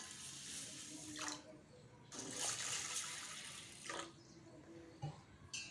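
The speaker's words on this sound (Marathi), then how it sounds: "तांदूळ आणि डाळसुद्धा आपण स्वच्छ पाण्याने धुवून घेऊया" Toor dal and rice being washed in clean water, with soft splashing and swishing at a low level and a few brief bursts of running water.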